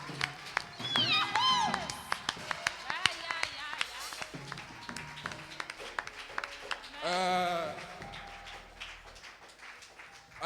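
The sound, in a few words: congregation cheering and clapping for Jesus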